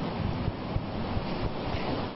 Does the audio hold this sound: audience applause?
no